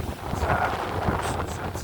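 Outdoors in a garden, wind buffets the microphone in low, rumbling gusts that swell and fade. Faint traces of a voice come through underneath.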